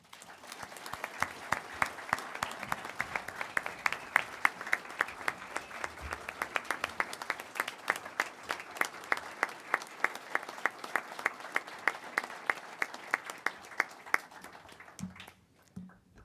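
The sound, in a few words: audience applause at commission meeting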